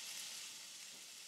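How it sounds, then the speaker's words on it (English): Steady, continuous sizzling of diced meat frying in a hot pan, a dense high hiss that holds evenly throughout with no talking. "nice and sizzling."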